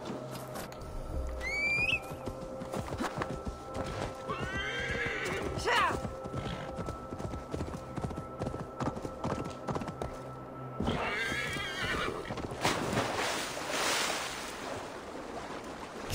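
Horse hooves clip-clop steadily in Assassin's Creed Valhalla with a couple of loud neighs and whinnies, over surf-like ambient wash and scattered game effects; a brief voice surfaces at moments.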